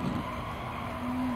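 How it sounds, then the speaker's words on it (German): A race car drifting in the video game Gran Turismo 7, a steady engine drone with a brief tire squeal tone rising near the start and again toward the end, with no talk. "Oh nein, es fängt an zu driften."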